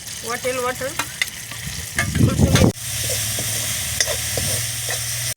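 Curry leaves and turmeric go into hot oil with browned cumin in a pot over a wood-fired stove, crackling and spitting loudly, then settling into a steady close sizzle as the spices are stirred.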